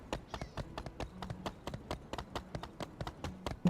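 Horse hooves clip-clop in a video game, a quick, even run of crisp, close hoofbeats repeating steadily throughout with no voices over them.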